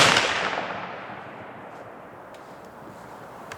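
A Ruger American Scout rifle fired with cheap ammunition outdoors: one loud, sharp report at the start rings out and decays slowly into the open air, with a faint click and a second sharp sound right at the end.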